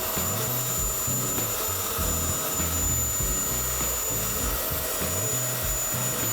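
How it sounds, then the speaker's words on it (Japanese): A powerful new cordless blower blows water off a car, blasting continuously with a dense, droning whoosh and a thin high whine on top, loud and near throughout. "こちらが今回の最強ブロワー。"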